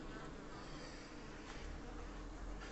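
Honeybees buzz thickly around an opened hive, a dense, steady drone of many insects filling the air close by with no pauses.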